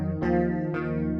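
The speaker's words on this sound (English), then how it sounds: "It sounds like a chorus effect." A Waves Doubler plugin duplicates and detunes a distorted guitar part in a metal mix, giving a thick, shimmering chorus-like sheen. Two sustained chords ring in quick succession, dense and close.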